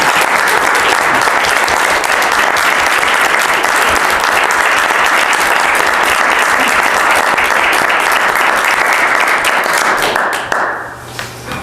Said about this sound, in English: I think a round of applause for Steve.